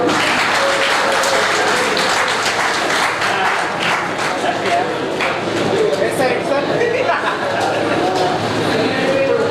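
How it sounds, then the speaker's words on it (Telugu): A crowd at a school alumni reunion gathering breaks into loud, dense applause that holds steady throughout. A voice may be talking over the clapping. "చప్పట్లు చప్పట్లు"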